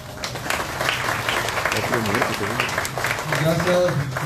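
Applause from a crowd at a youth political party swearing-in event, dense clapping with voices and cheering mixed in, moderately loud and fairly close, with talk rising over the clapping.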